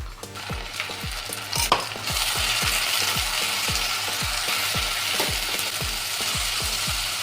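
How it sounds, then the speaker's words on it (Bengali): Onion frying with ginger-garlic spice paste, sizzling steadily in a pan while a spoon scrapes and stirs in a regular, repeated rhythm, close and fairly loud for several seconds. "মশলাটা একটু ভেজে নেব"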